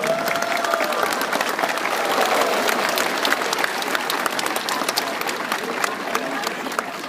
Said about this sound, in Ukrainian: Ваші оплески